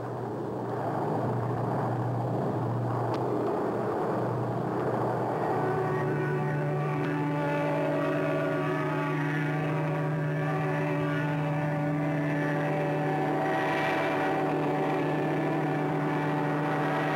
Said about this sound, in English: They stripped their wing tanks and went in, dive bombing.